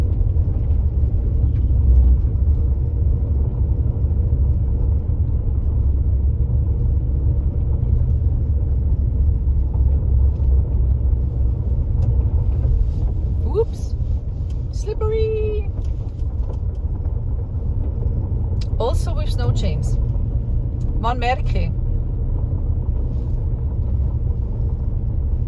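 A car drives steadily along an icy road in Switzerland, its low engine and tyre rumble constant and close throughout, with a few brief voices speaking faintly partway through.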